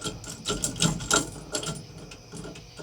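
Lag bolts being cranked down on the steering wheel of a 1960s Chevy C10 truck, a series of short uneven ratcheting clicks and mechanical taps, close and fairly quiet.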